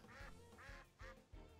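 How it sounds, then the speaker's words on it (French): Four evenly spaced duck quacks used as a sound effect in the video game Temtem, faint and alone. "Ça me fume qu'ils aient pris un vrai bruit de canard, de cri de canard, quoi."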